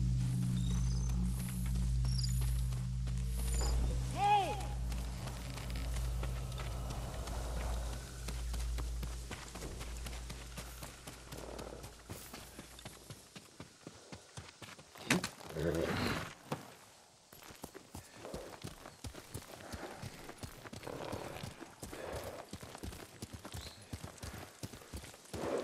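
Horse hooves clop and gallop in the samurai game Ghost of Tsushima, a rapid, rhythmic run of hoofbeats that carries on after a low ambient drone fades, with spoken dialogue at points.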